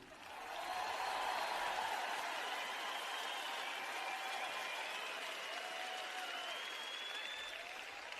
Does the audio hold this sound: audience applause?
yes